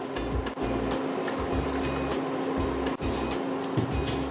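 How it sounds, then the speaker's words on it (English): White vinegar is poured into a measuring cup for a sweet and sour pizza sauce, making a continuous close liquid pour over a low electrical hum. "Next, we are going to add half a cup of white vinegar."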